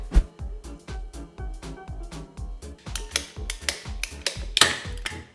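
PVC cutters ratchet through 1-inch PVC pipe in a close series of rhythmic clicking strokes, ending in a sharper snap as the pipe is cut through.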